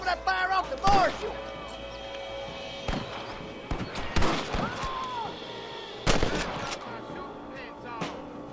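Gunfire in the Western video game Red Dead Redemption cracks out in scattered shots and short bursts, some loud and close, others further off, with voices talking between the shots.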